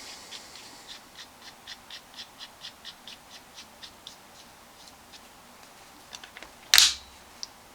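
A bolt handle goes into an ARC Coup de Grace rifle. A run of faint, evenly spaced light ticks is followed by one sharp, loud metallic snap near the end, close by in a quiet room.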